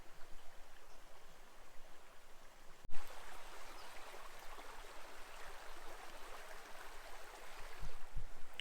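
Bear Creek in Saint Croix State Park, Minnesota, flows steadily with a broad rushing hiss, close by and unbroken, with a brief knock partway through and no talking.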